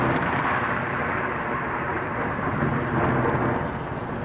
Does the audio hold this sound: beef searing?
no